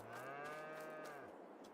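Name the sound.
cows mooing on a farm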